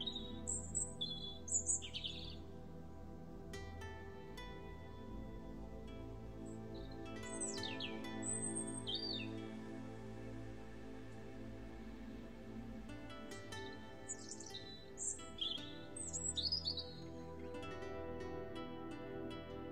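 A robin sings in short, high, warbling phrases, repeated several times at moderate distance over a steady soft musical background with no talk.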